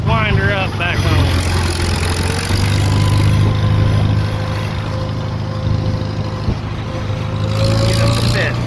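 A Farmall M tractor engine runs close and loud as the throttle is opened up, its steady low drone slowly rising in pitch, while someone talks over it.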